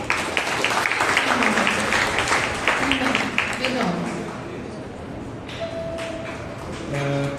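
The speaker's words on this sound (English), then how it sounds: "Let's clap for Sister Shobha." Applause from a crowd fills the first half under a speaking voice, then fades as faint tones and taps follow.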